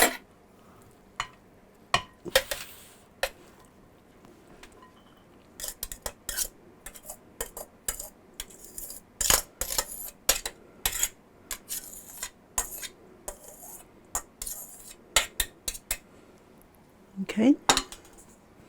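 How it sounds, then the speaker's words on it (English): A spoon scrapes and clinks against a bowl while 30 ounces of hash browns are mixed for funeral potatoes, giving irregular close clatter and scraping throughout, with a brief spoken word. "Gonna mix it all up."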